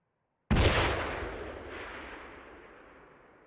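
A single loud gunshot in Arma 3, fired at an enemy sniper, cracks sharply after a short silence and then rolls away in a long, fading echo.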